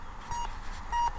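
A metal detector sounds two short, fairly faint tonal beeps over a find during an outdoor treasure hunt.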